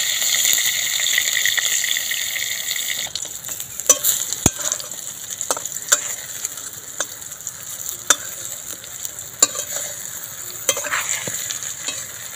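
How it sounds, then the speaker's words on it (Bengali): Hot oil sizzles loudly at first as brinjal slices go in, then settles into a softer crackle broken by sharp clinks and scrapes of a utensil; no talking. "তেলের মধ্যে বেগুনগুলো এক এক করে দিয়ে দেবো"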